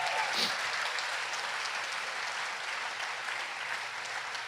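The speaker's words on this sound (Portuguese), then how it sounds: "dá uma linda salva de palmas a Jesus" A church congregation applauding for Jesus during a sermon, an even wash of clapping that holds steady for several seconds and then gently fades.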